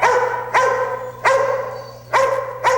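A puppy yips and barks four times in an uneven rhythm, with sharp, close, fairly loud high-pitched barks separated by short pauses and no talking.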